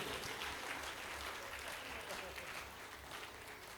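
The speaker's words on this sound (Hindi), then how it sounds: "तालियां फिर कम बजा रहे हैं आप," Steady applause from a comedy show audience fills the room, a dense continuous patter of clapping holding at an even level throughout.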